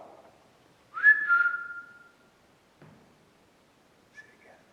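One short whistled note rises and holds for about a second in a quiet room at Strelley Hall, followed later by a faint brief second whistle.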